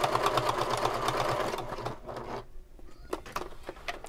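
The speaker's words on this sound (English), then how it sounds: "And I made sure to back stitch at the end." A home sewing machine stitches through a thick bag seam, its steady motor whir and rapid needle patter running loudly for about two seconds before stopping, followed by scattered light handling clicks and rustles.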